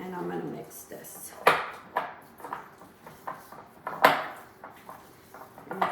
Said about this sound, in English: A little bit, and I'm gonna mix this